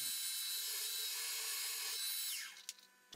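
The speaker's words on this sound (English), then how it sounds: "I'll drill 4 M6 holes so I can clamp the parting blade in place" A drill bores M6 holes into a small steel lathe tool holder meant to clamp a parting blade, a steady close high-pitched whine that winds down near the end.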